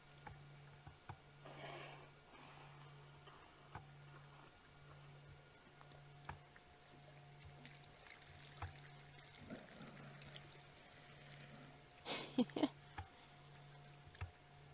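A wild animal drinks at a safari waterhole, lapping water and sucking drips from its lip while a hippo stays nearby. The soft, faint slurps and laps come in scattered bursts over a low steady hum, with a louder cluster near the end.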